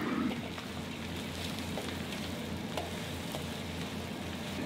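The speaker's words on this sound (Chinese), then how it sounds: "将准备好的土鸡块下锅翻炒几分钟" Free-range chicken pieces stir-frying in a wok in oil with melted rock sugar, giving a steady, even sizzle and hiss that runs throughout with no voices.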